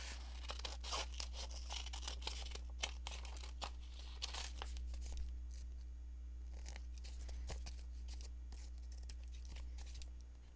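Scissors cutting through a paper envelope for a junk journal booklet, a close, quiet run of crisp snips and crinkles over a steady low hum, no talk.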